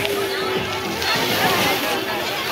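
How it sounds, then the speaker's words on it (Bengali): An artificial water fountain at a trade fair splashes and sloshes steadily, heard up close beneath busy crowd noise and nearby voices talking. "এটা হচ্ছে কৃত্রিম একটা ঝর্ণা"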